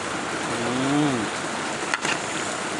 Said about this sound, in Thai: กับบรรยากาศฝนตก